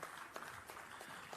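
Applause at a graduation ceremony in Sri Lanka, a faint, distant wash of clapping with a few sharper claps standing out as the crowd keeps it going.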